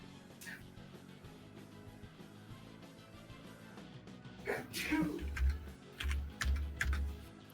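A sneeze during a tabletop roleplaying game session at a table, one burst around the middle amid keyboard typing and low thumps, with people talking nearby.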